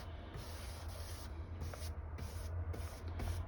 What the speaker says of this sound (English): Put some finish on the edge of the wood where the sink will go